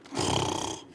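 A voice imitates loud, rumbling snoring during a read-aloud of a children's picture book, one sustained breathy snore close up, with no other talk.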